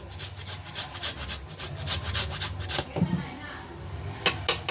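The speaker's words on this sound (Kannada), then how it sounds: "ಇದಕ್ಕೆ ನಾನು ಒಂದು ಕ್ಯಾರೆಟ್ ಹಾಕ್ಕೊತೀನಿ. ಚಿಕ್ಕದಾಗಿ ಇದು ಗ್ರೇಟ್ ಮಾಡಬೇಕು" A carrot is grated finely for an egg bread recipe: quick, rhythmic rasping strokes close by, a run of scraping rubs that fades into a few scattered clinks.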